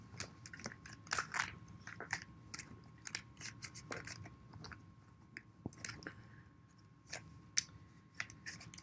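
Someone shuffles a deck of stiff, slightly sticky tarot cards, producing soft, irregular snapping and riffling clicks over about nine quiet seconds with no talking.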